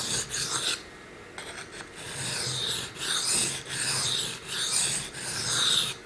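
A steel blade is drawn in repeated strokes across a sharpening stone on the finishing grit, a steady scraping rasp in rhythmic passes with brief pauses, close and alone.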